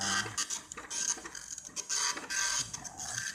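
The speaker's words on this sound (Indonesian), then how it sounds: "Cukup cepat untuk print dot matrix." An Epson LX-310 dot matrix printer printing a page, its print head rasping in quick bursts of buzzing, ratcheting passes with brief pauses between lines, close and loud without any talk.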